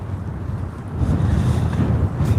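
Strong outdoor wind gusts on a roadside, buffeting the microphone with a steady low roar that swells louder partway through, with no talking.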